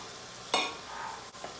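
Onions and leeks fry quietly in oil and butter, a soft steady sizzle broken by a brief stirring scrape and a faint later clack.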